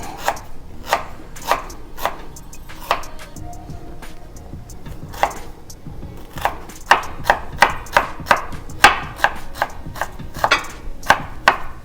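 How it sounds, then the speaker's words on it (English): Onions and green chilies being chopped fine with a knife on a board, a long run of sharp, close chops, sparse at first and then quickening into a rapid, even rhythm. "And this one we need to chop fine"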